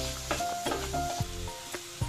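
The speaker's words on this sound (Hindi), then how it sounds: "और इसके साथ ही इसमें सांभर मसाला भी डालेंगे। और इसे 1 मिनट तक भून लेंगे।" Sambhar masala spices roast in a pan over low heat, giving a soft, quiet sizzle broken by light scraping stirs and small clicks of a spoon against the pan.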